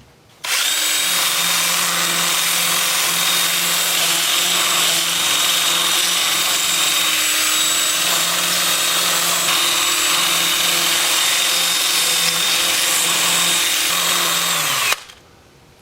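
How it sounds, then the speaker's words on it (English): Sandoflex sander with an 80-grit 2-inch disc working a cherry plum bowl turning in reverse at about 350 RPM on a lathe, a loud, steady whirring drone that starts abruptly, holds for about fourteen seconds and cuts off. "Time for sanding. I'll start with my Sandoflex, and I'll show you that."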